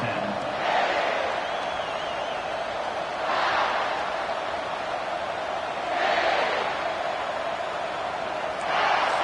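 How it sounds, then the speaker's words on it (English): A football stadium crowd roars as a team welcomes its visitors, a dense, continuous wall of cheering that swells in periodic waves about every three seconds. "This crowd bringing an ear-splitting welcome to their visitors"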